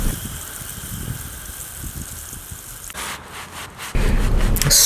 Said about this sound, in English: Scrub with a stiff brush to help you remove oil stains.